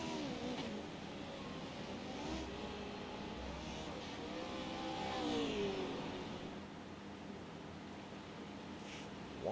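4x4 Pro off-road trucks racing over a jump at the Grit N Glory Pro 4x4 off-road championship, their engines giving a faint, distant rising and falling whine with steady background noise.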